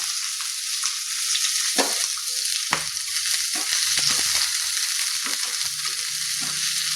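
Green chilies and a small chopped onion frying in a pan for lauki sabji, a steady broad sizzle running throughout with occasional clicks and stirring knocks, close and fairly loud, no talking.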